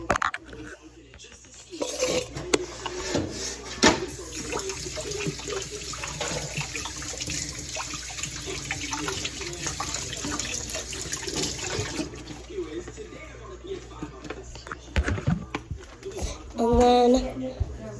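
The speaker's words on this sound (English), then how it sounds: "And then I go over, wash my hands." A tap runs into a sink while hands are washed, producing steady splashing and trickling water, with people talking over it.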